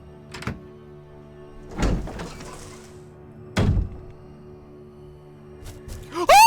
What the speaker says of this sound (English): Let me open this door.